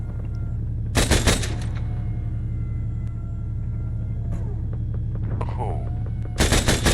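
Gunfire in the military video game Arma 3 comes as two loud bursts of rapid machine-gun shots, one early and one at the end, over a steady low vehicle rumble, with a few brief spoken words between them.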